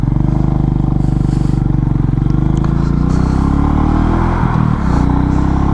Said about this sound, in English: Just hear that Honda, beautiful sound.